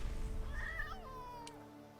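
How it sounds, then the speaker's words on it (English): A cat avatar in the card game MTG Arena gives a single drawn-out meow, fairly faint, over a low steady background hum. "Meow!"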